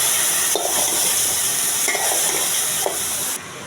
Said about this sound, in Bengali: এবার মিডিয়াম জালে লাউটাকে ভেজে দেব।